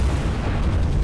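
Dive bomber bombs striking ships in the naval video game War on the Sea, a heavy continuous low rumbling roar of explosions, loud and sustained without a break.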